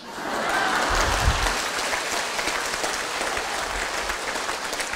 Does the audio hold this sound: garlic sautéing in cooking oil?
no